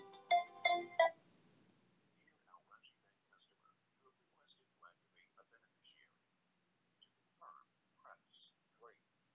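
A phone ringtone sounds for an incoming call after setting up an Al Rajhi Bank beneficiary, with a short burst of chiming tones at the start and then scattered faint blips and soft sounds over quiet.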